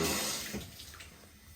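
Dirty water pours or runs during stone restoration work, a brief, fairly faint splashing rush that fades after a moment.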